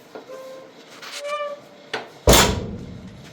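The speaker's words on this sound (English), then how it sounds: "no, just shut the door" A door on a Ford Bronco 2 under rebuild is shut with one loud, sharp slam late on, after faint creaks and short talk.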